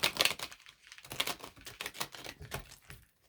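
A golden tarot deck is shuffled by hand in quick, uneven bursts of riffling, flicking card noise heard up close.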